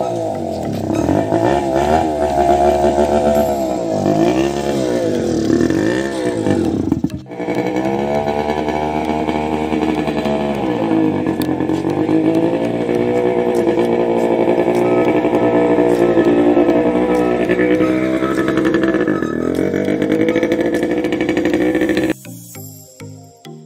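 Hero Splendor Plus motorcycle, a modified bike, idling steadily with a loud, sustained engine drone and shifting harmonic pulses for most of the clip, a brief dip near the middle, then cutting off near the end.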